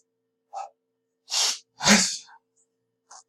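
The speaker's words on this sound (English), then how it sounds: "I tried to force out my sneezes." A person sneezes forcefully, preceded by a quick sharp inhale and followed by short breaths, close to the listener.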